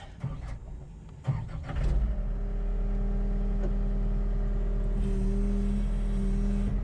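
A John Deere 325G compact loader fitted with a Harley rake starts up, with a few clicks and a short cranking burst, then settles into a steady, loud diesel idle with a hydraulic whine. No one talks.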